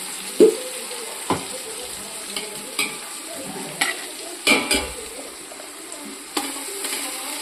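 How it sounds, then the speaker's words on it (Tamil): Green chillies sautéing in a pan for a large-batch chicken biryani, with a soft steady sizzle and occasional sharp scrapes and clinks of a stirring spoon against the pan. "நம்ம பச்சை மிளகாய் கொஞ்சம் நல்லா வதங்கட்டும்."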